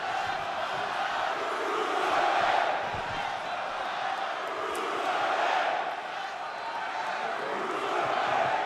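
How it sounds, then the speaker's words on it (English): A large NXT wrestling arena crowd trades dueling chants, two sides alternating in a steady rolling rhythm that swells and dips over a constant roar of voices. "Dueling chants from the NXT universe."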